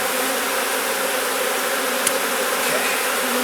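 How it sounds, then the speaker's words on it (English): Honey bees buzzing inside a brood box packed full of bees, a dense, steady close-up hum with no gaps. "This box is right full of bees, and it needs a second brood box or else it's going to swarm"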